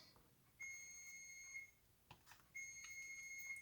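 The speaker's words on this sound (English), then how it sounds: "that timer is telling me my dog treats are done" An oven timer, signalling that baked dog treats are done, sounds two long, sustained electronic beeps separated by a short pause, faint and at a distance in a quiet room.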